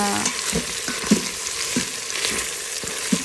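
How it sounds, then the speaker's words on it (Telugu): Garlic powder and capsicum fry in an Instant Pot on sauté mode, a steady close sizzle with a few soft stirring scrapes and clicks spaced through it, no voices. "గార్లిక్ పౌడర్ వేసి ఫ్రై చేస్తానండి"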